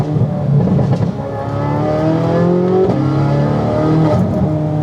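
Corvette C8 Z06 with a full titanium exhaust revs hard and loud, its rising engine note climbing and easing off in waves with a brief break near the middle, close up and with no voices.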